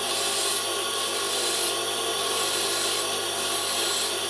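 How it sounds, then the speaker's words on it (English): A TIG welding tungsten electrode is ground to a point on a grinder, making a steady, loud, unbroken abrasive hiss and whir close by with no talk. "When you grind your tungsten, grind it like that to a point,"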